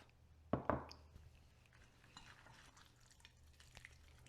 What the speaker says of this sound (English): And then we're going to stir it together and see if we don't need the other 1/2.